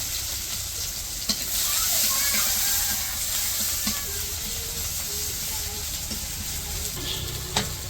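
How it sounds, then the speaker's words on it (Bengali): Onions sizzle and crackle steadily in hot oil in a wok, with occasional clinks of a spatula stirring against the pan. "তো পেঁয়াজ ভাজা হয়ে গেছে"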